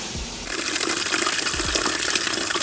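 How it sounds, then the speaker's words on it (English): Tap water rinsing out aquarium equipment at a sink: a brief quieter start, then a steady, loud gushing splash that runs on without a break, close up with no voices. "So I'm just rinsing this out"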